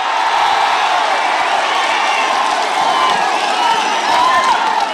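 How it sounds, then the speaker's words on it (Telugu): A large crowd at a political confrontation with police roars and claps in protest, a dense, loud, continuous wash of voices and applause with no pauses. "గట్టిగా చప్పట్లు కొట్టి వ్యతిరేకించండి."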